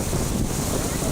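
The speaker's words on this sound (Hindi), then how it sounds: "साई साई करती तेज हवाओं के साथ बारिश भी शुरू हो गई" Strong cyclone winds and rain roar steadily over Bakkhali on the coast as Cyclone Yaas approaches, a loud, dense, unbroken rush of gusting air and rainfall.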